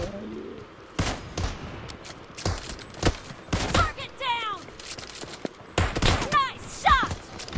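Sharp gunshots crack in a video game, single shots and short bursts spaced over several seconds, mixed with chirpy whistling effects between them.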